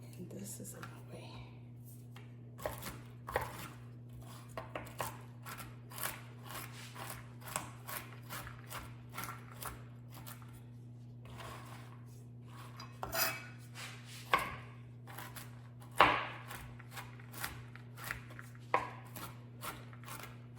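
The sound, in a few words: chopping food for holiday pie gifts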